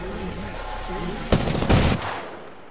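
Gunfire rings out in a video game: a short, sharp burst of rapid shots cuts through a steady background hum, then fades back to the ambient drone.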